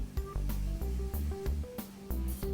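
A DIY camera slider gliding along its tube on plastic bushings cut to fit, with repeated close back-and-forth passes that each end in soft knocks and clicks.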